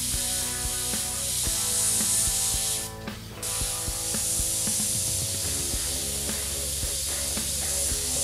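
Airbrush spray painting a design, with a steady hissing spray running almost continuously, briefly pausing near the middle, accompanied by faint mechanical clicks.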